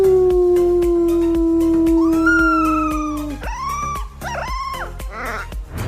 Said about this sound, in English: This guy's teaching his puppy how to howl